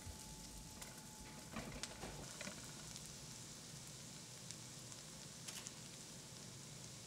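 Shallots and sliced garlic sizzle faintly and steadily in a pan, a soft continuous crackle with a few light clicks, no talking.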